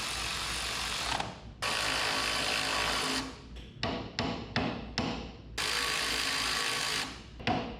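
A ratchet snugs bolts on a 6-speed transmission mock-up being fitted behind a Cummins engine in a 1963 International Loadstar truck. Close, loud bursts of rapid clicking repeat in several runs, separated by brief pauses.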